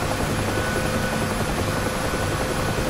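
UH-1H Huey helicopter hovering before a normal takeoff in the DCS flight simulator, a loud continuous rotor and turbine roar with broadband wash and a faint pulsing blade beat, close and steady with no speech.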